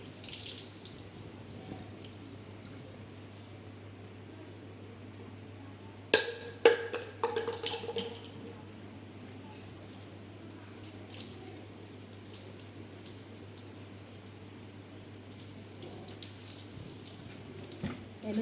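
Tap water runs steadily into a bucket being filled with phenyl solution for mopping the floor, a continuous close splashing hiss with a burst of clattering handling sounds midway.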